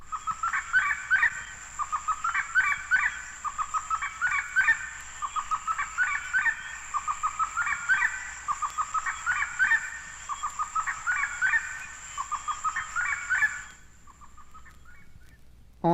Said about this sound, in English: The more pleasing cackle of the gray-necked wood rail is given at dusk from the edge of a woodland pond.